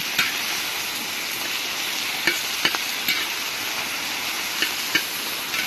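Pork chorizo and Jimmy Dean sausage fry in bacon grease on a disc cooker outdoors, giving a steady close sizzle with scattered pops and sharp crackles throughout, and no voices.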